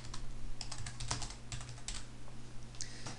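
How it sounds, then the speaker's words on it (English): Typing on a computer keyboard, a quiet run of irregular soft key clicks and taps close by, with no voices. "you can then type a bit of text in this box"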